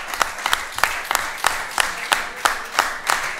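Rhythmic clapping from an audience at a bullfighting club talk, sharp claps landing in a steady beat roughly three times a second over a softer bed of scattered hands.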